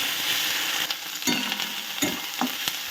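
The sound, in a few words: spice paste frying and being stirred in a pan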